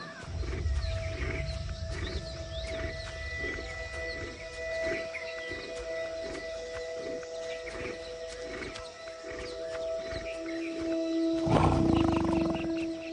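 A male tiger in the wild gives a deep, rumbling roar that swells near the end, over a steady background of insects and ambient noise.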